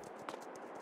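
A horse named Nirvana in Farming Simulator 22 walks with quiet, steady hoof clip-clops, a few soft evenly spaced steps heard alone and faint.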